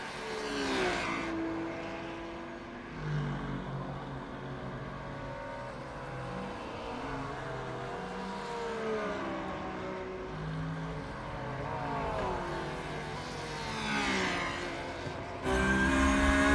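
A Porsche GT3 race car in iRacing at Watkins Glen International drives a continuous, loud engine note that rises and falls through the gears, with shifting harmonic sweeps and a sharper surge near the end.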